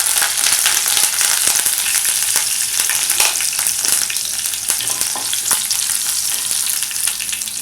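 Curry leaves and green chilies frying in hot oil in a pan for sago upma, a loud, dense sizzle with sharp crackling spits throughout.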